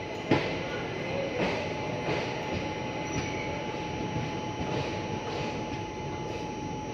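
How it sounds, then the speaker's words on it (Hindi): Sabarmati Express pulls out of Mohali station with a steady rumbling roll and rhythmic clunks of the wheels over rail joints, heard from on board with a constant tonal hum. "2 मिनट रुकने के बाद अपनी ट्रेन का डिपार्चर हो रहा है साहिबजादा अजीत सिंह नगर मोहाली से"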